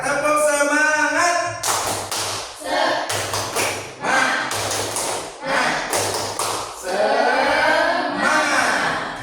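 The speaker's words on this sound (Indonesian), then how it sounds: "coba tepuk semangat" A group doing a rhythmic spirit clap, loud bursts of unison claps in a patterned beat broken by short pauses, with shouted voices between the bursts.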